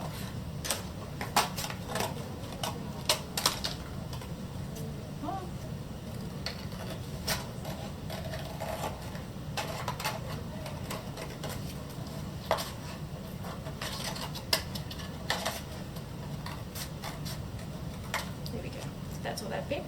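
Scissors cutting around the edge of a paper plate: repeated short crisp snips and rustling paper at an irregular pace, close by and fairly quiet, while someone talks over them.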